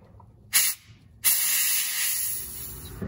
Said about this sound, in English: Spray a little brake clean in there.